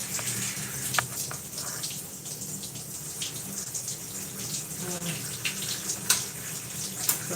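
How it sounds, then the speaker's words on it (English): Running water pours steadily while hair in twists is rinsed beneath it, a continuous close splashing wash with occasional louder drips and spatters and no talking. "I'm gonna rinse my hair with these twists in here."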